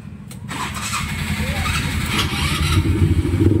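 A Kasuma 500cc 4x4 ATV cranks and fires up, the engine catching after a brief whine and settling into a loud, close, rumbling idle, with a voice briefly heard at the start.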